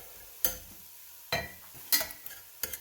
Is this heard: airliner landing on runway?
no